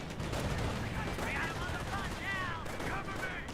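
Machine gun fire crackles in a Company of Heroes battle involving half-tracks and infantry, a dense continuous rattle of bursts under a busy mix of battle noise.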